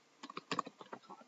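Keys on a computer keyboard are pressed in a quick, uneven burst of about a dozen light clicks, close and quiet, with no talking.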